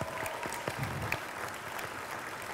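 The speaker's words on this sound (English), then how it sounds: "Give her a big clap." Applause for a local organiser at the start of day at a 2018 national final, a moderate crowd clapping steadily for a couple of seconds, slightly distant and filling the room.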